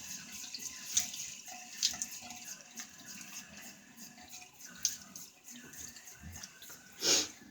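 A tap runs into a sink while a face is wetted before a shave, a steady close splashing wash with a few sharp drips and a louder surge near the end, no talking.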